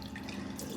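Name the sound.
washing cat food bowls under running water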